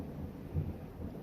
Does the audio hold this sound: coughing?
no